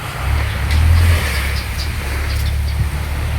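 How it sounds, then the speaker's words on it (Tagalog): A truck rumbles past on a seaside roadside, its deep, steady engine drone swelling briefly near the middle and then holding on as a loud, continuous low roar with no talk. "Ay nako, ang ingay. May dadaan na naman na truck."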